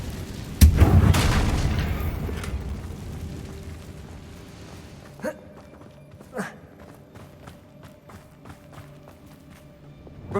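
The fire spell Incendio cast in a wizard video game bursts with a loud whooshing boom that slowly fades, followed by a few lighter thuds and steps in the game scene.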